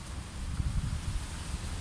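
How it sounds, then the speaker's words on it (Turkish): Low, steady wind rumble buffeting the microphone, continuous and fairly quiet with no other distinct sounds. "Rüzgar var."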